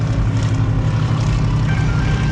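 Loud, steady roar of an airplane engine, a dense continuous rumble that stays strong for the whole short stretch.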